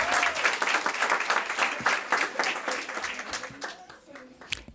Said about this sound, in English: Can we clap for Angel, though?